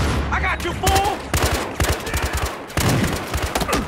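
Rapid bursts of gunfire ring out repeatedly in loud clusters, with voices talking over and between the shots.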